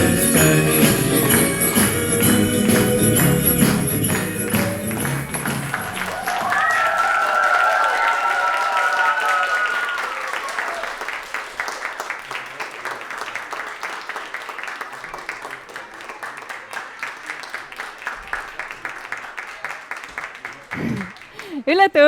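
Audience applause at a dance studio Christmas concert, loud dense clapping that rises after music fades, with cheering and a few voices over the crowd, continuing steadily to the end.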